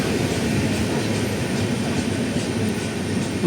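Train at a platform of Chittoor railway station, the Kacheguda–Chittoor Venkatadri Superfast Express, giving a loud steady rumble of rolling cars with faint wheel squeal, continuous throughout.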